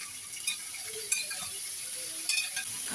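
Sliced chicken sizzles in a pan, a steady close crackle broken by a few light clinks of a utensil against the pan, no voices.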